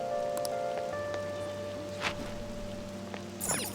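Rain falls in the Persona 5 Royal video game, a soft steady patter under faint game music tones, with a few brief louder splashes and clicks.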